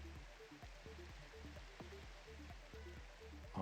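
Steady pattering rain in Minecraft falls as a soft, even hiss under faint game sounds, with a regular series of quiet clicks and a brief bump near the end.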